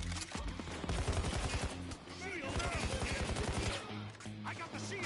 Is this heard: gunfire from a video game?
yes